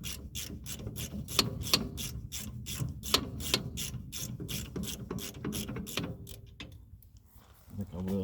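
A ratchet clicks in quick repeated bursts while tightening bolts during a gear change on a V8 Chevrolet S10 truck, rapid pawl ticks coming in close, steady strokes before trailing off into quieter handling noises.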